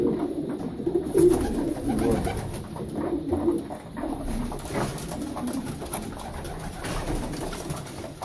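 Soft coos from sport pigeons in a loft repeat at a steady pace, close by, over a low, continuous background murmur.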